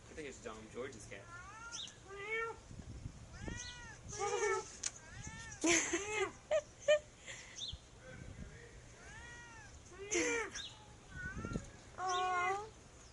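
A cat meows repeatedly outdoors on a sunny day, a series of close, rising and falling cries, some drawn out into wails, with brief gaps between them.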